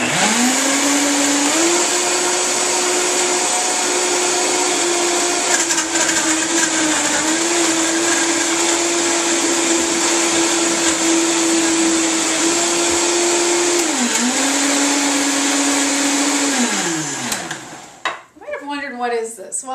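A Vitamix blender whirs steadily through a smoothie of frozen fruit, a loud sustained motor drone with slight pitch dips as the load shifts, then winding down and stopping near the end with some clatter.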